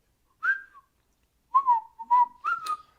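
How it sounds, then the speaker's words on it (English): Someone whistles a short, cheerful phrase of a tune, a few clear notes close to the mic with a brief pause between the opening note and the rest of the line. "Just purse your lips and whistle."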